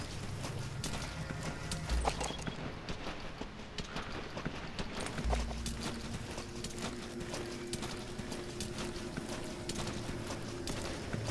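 Horse hooves clip-clop at a steady walking rhythm in the stealth game Metal Gear Solid V: The Phantom Pain, moderately close over a dense game soundscape with ambient music.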